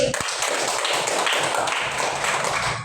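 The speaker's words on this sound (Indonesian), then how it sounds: "Silakan tepuk tangan" A classroom of students claps for a student group during a coding lesson, producing continuous, dense applause at an even level from start to finish.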